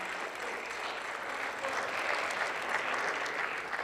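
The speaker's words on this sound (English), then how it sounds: "a round of applause for both Leo and John" Audience applause fills a school gymnasium during a centennial basketball championship commemoration, a steady, dense clapping that swells slightly toward the end, heard alone without speech.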